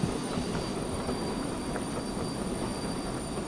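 Steady rumbling train running with faint wheel squeal, continuous and fairly loud, in the railway video game Derail Valley on a mountain grade, no talking.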